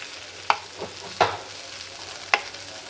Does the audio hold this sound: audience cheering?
no